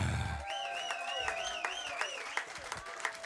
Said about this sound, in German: Bitte begrüßt mit einem herzlichen Applaus